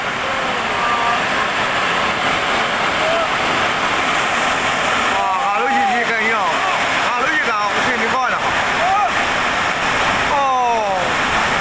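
Water rushes loudly and continuously, a broad steady roar, with people talking and calling out over it.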